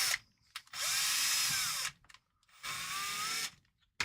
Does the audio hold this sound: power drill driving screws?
yes